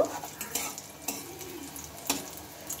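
Bottle gourd pieces frying in hot oil, a steady sizzle broken by several sharp spatters and utensil scrapes in the pan, moderately close, no voices.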